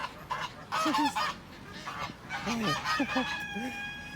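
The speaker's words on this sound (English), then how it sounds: "look at how we got ducks. Look at them." Geese and other fowl honk and call repeatedly at close range on a town street in Israel, with roosters and chickens mixed in and brief bits of talk nearby.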